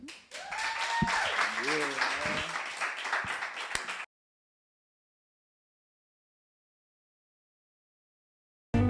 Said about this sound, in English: Y'all better make some noise one last time.